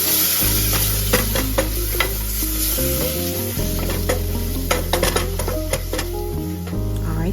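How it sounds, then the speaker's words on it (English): Garlic and vegetables sautéing in a pan for shrimp and grits étouffée give a steady close sizzle with occasional utensil clicks, over a prominent low humming tone that shifts pitch. "I'm going to add in a teaspoon of garlic and let that cook for about another 30 seconds or so"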